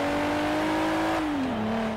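A Renault engine in the Forza Horizon 3 racing game holds a steady loud drone, then its pitch drops as the revs fall off, continuous with no talking.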